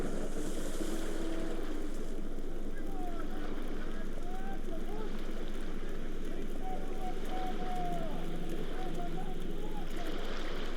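Rolling ocean waves and a creaking sailing ship at sea in the video game Book of Travels, a steady wash of surf and wind with faint low calls over it throughout.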